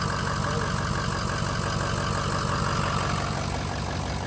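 A donor truck engine idles smoothly and steadily with a constant low rumble and even mechanical drone, close and continuous with no talk.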